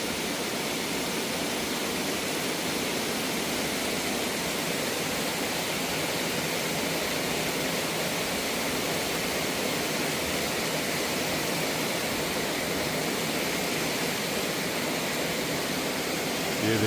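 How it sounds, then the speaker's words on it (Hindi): A river running in full flood after heavy rain in an evening jungle, a dense, steady rushing roar that stays loud and unbroken throughout, with no voices over it. "पूरी नदी फुल पानी से चल रही है।"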